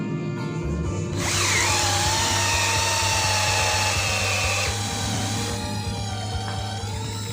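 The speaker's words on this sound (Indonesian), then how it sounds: "di sini saya menggunakan mata bor kayu ukuran 12 mm dari Bosch pada kecepatan nomor 2 atau yang high dan modenya adalah mode drilling" A cordless drill on high speed in drilling mode bores a 12 mm Bosch wood bit into mahogany, a loud steady whine that holds for several seconds, changes pitch as the bit bites, then winds down toward the end.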